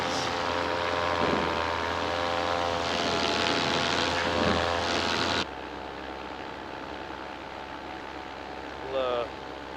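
A paramotor engine and propeller drone steadily at full power in flight, loud and close for about five seconds. The level then drops to a steadier, lower hum with a brief tonal chirp near the end.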